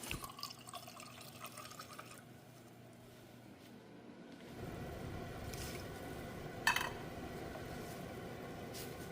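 Quiet clinks give way to water pouring steadily into a measuring cup, a soft gurgling fill with a brief splash near the end.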